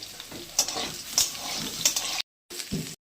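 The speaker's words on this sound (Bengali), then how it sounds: "লঙ্কাটা দিয়ে দিলাম, আলুগুলো ভাজা হয়ে গেছে" Green chili drops into oil with already-fried potatoes for a Bengali banana-stem ghonto. Soft sizzling is punctuated by three sharp metallic utensil clinks, then the sound cuts out abruptly, returns briefly and stops.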